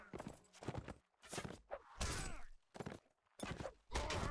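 Horse hooves gallop in the Mount and Blade Warband video game as bursts of thudding clip-clop, with loud, close impacts arriving in uneven clusters separated by short gaps.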